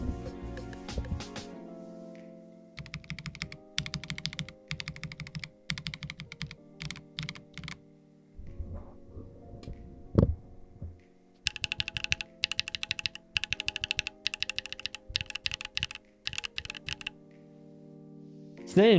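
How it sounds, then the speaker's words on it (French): Typing on a Fekker Alice plastic wireless mechanical keyboard makes bursts of close, crisp key clacks in uneven runs with brief pauses, set against a steady low hum. "sur un clavier en plastique, on aura un meilleur son que sur un clavier en métal"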